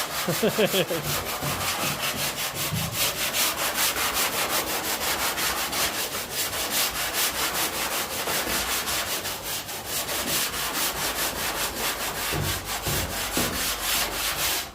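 Steady abrasive rasping of sandpaper rubbing back and forth across a car's painted surface, continuous and close, with fast regular strokes throughout.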